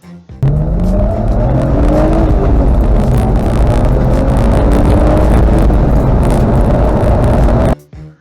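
A BMW E46 330ci track car on a wet road pulls hard from low revs up to about 60 mph, its engine climbing loudly through the gears with brief dips at each shift, close and dominant throughout.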